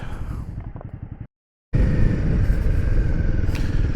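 A motorcycle on a test ride revs loud and close, rising under acceleration, then cuts out briefly during a gear shift before surging back at a higher, steady roar.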